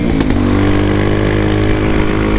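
A Honda XR Tornado motorcycle fitted with a Belparts Classic exhaust idles loud and close, its steady rumbling beat punctuated by a couple of sharp pops early on.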